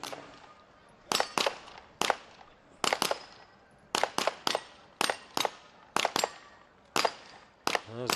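Rapid gunshots ringing off steel plates during a SWAT shooting challenge, about fifteen sharp cracks in irregular bursts and pairs, with brief quiet gaps between them and no talking.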